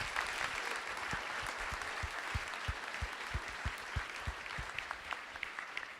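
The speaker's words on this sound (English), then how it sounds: "Would you give him a round of applause?" An audience at a youth engagement summit gives sustained applause, a dense wash of many hands clapping steadily at moderate distance, with a few louder individual claps close by.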